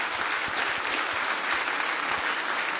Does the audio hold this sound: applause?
yes